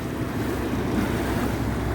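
The ship American Mariner passes on the river, heard as a low, steady rumble mixed with wind buffeting and the wash of water, continuous and fairly loud.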